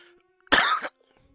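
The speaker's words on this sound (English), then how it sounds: "There's that cough that I got from the flu shot." A single short, harsh cough close to the microphone, standing alone in near silence.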